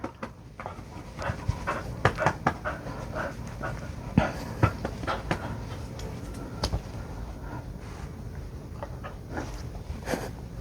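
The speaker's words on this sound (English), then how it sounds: "I just opened the door and my dog came in." A dog pants steadily and close by in rapid, breathy bursts, continuing throughout with no other sounds over it.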